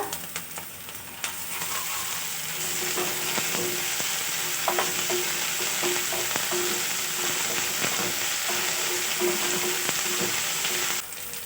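Ground chilli, cumin and ginger paste with chopped capsicum sauté in a pan for a meat-stuffed pointed gourd dish, giving a close, even sizzle with light stirring scrapes and no talking.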